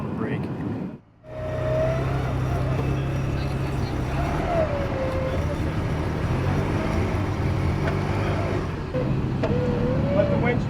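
Steady mechanical drone of a vehicle winch pulling a stuck vehicle attached by its rear bumper out of the Paracas sand dunes in Peru, with a rising whine now and then, a brief dropout near the start, and a voice talking over it.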